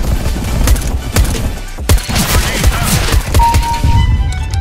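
Counter-Strike: Global Offensive gunfire, loud rapid shots and heavy thumps in irregular bursts, with faint talk underneath.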